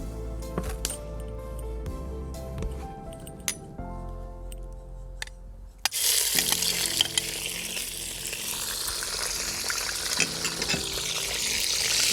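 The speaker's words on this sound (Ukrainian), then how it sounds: "І до нашої олії ми будемо закидати підчеревину витоплювати її на жир та шкварки." Pork belly drops into hot oil in a cauldron over an open fire and bursts into a loud, steady sizzle and crackle, after some earlier light clinks and taps.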